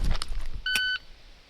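A single sharp electronic shot timer beep, short and clear, sounds once after some faint clicking and handling noise during handgun draw practice.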